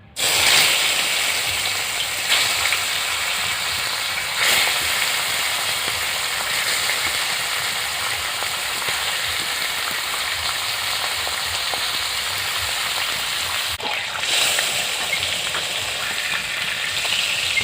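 Fish pieces fry in hot white oil in a kadai, a loud, dense, continuous sizzle close up that holds steady throughout, with occasional faint shifts as the pieces are turned.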